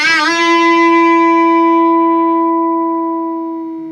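A Marshall JTM 45 guitar amp sustains a loud, steady harmonic howl on the edge of feedback after a sharp attack, ringing alone and slowly fading over several seconds.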